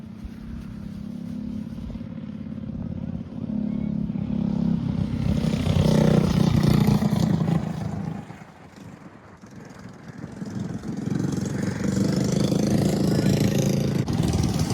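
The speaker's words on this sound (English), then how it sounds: "Here come the kid carts." Kid karts race around a go-kart track, small engines droning and revving as they pass, swelling loud then dipping around the middle before building again, with someone talking faintly underneath.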